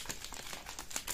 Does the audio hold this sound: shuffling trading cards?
yes